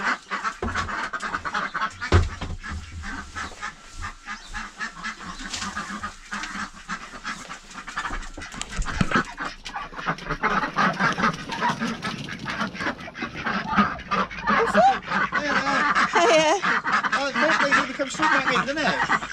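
Domestic ducks quack in a busy overlapping flock in a home garden, growing louder and more crowded toward the end, with a few faint voices in the background.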